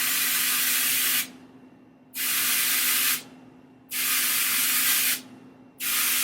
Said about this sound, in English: I think I'm gonna just kind of spray the top